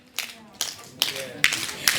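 A room of participants at a leadership session claps in unison, a few sharp, spaced beats arriving about every half second, fairly close and moderately loud, with light background murmur.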